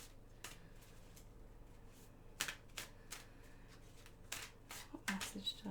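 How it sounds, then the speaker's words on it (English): Wild Unknown Tarot cards are shuffled by hand in quiet, close bursts of riffling and slapping, scattered irregularly over a faint steady background hum. "So just shuffle the cards a little bit more."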